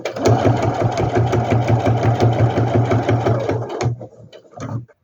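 Sewing machine stitching a fabric bag's lining to the bag at a 3.5 stitch length, a rapid steady needle clatter that runs for about four seconds, then slows into a few short bursts and stops.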